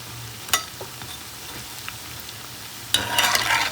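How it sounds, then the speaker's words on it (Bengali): Large onion fritters (peyaji) deep-frying in hot oil, a continuous bubbling sizzle with a sharp burst near the start and a louder spitting surge toward the end. "আমি হচ্ছে এখানে পেঁয়াজি ভেজে নিচ্ছি"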